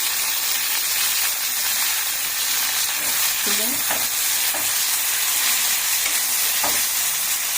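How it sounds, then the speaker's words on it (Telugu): Tomatoes softening in a little oil in a pan, with a steady, loud frying hiss throughout and a few brief clinks of stirring. "టమాటాలు మగ్గుతున్నాయి"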